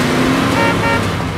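Cars in the SpongeBob Battle for Bikini Bottom video game drive past in a steady, loud engine drone with no gaps.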